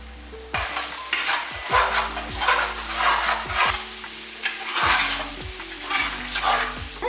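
Tomatoes fry in oil with ginger garlic paste for biryani, with a constant sizzle broken by repeated scraping stir strokes and ringing metal-on-pot sounds from the spoon.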